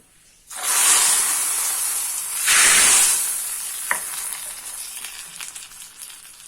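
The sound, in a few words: fried mustard seed tempering poured sizzling into curry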